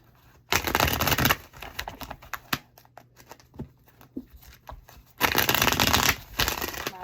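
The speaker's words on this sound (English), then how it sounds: "these cards shuffle awesome" Tarot cards being shuffled close up, two loud riffling bursts at the start and end with softer taps, slides and card flicks between them, no talk.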